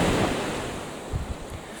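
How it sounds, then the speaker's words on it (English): Small sea waves wash onto a Dorset beach, a steady broadband surf roar with wind noise on the microphone and a few slightly louder breaking swells near the end, no voices. "Some quite nice little waves today."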